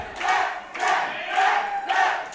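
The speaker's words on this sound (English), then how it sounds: "The crowd coming alive for Cornelius Pepperbottom." Wrestling crowd at a Coastal Empire Wrestling show at Reno's Casino, loud cheering that rises in repeated surges, about four swells of roaring voices with brief dips between them.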